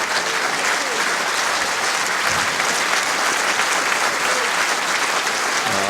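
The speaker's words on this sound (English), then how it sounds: "Applause from the audience" An audience applauds steadily at an indoor bowls championship after a pairs tie break, the clapping dense and sustained throughout.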